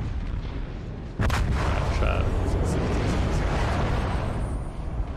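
A deep, rumbling broadside from the battleship Yamato in World of Warships lands as a sudden heavy blast and rolls on as a sustained low roar, loud and close.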